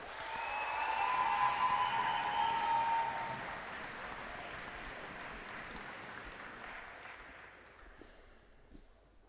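Audience applause at a Rose-Hulman senior recognition for Sophia Harrison, a steady wash of clapping that swells early and then slowly fades away, moderately distant, with no speech over it.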